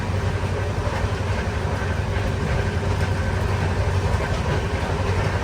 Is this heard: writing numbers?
no